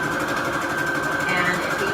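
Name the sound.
sewing machine stitching fabric onto receipt paper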